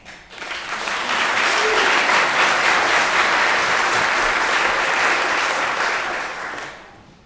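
At a Lowell school committee meeting, an audience claps as a thick, steady roar that swells in quickly, holds for several seconds and then thins out toward the close.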